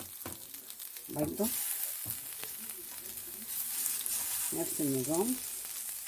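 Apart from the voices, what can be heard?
eels sizzling as they are added to a grill pan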